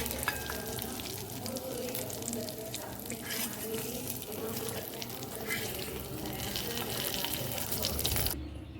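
Stuffed masala chillies and garlic frying in a small amount of oil, giving a steady, close sizzle with light stirring and watery crackle throughout, no talking, ending abruptly near the finish.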